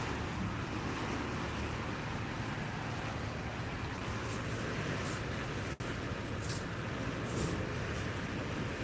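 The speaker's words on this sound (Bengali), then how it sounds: "প্রচুর পরিমাণ ঢেউ হইতেছে" Heavy, rough sea during a low-pressure storm at Cox's Bazar, heard from a hotel balcony: a steady, broad roar of surf and wind that stays continuous and fairly distant, with no voices.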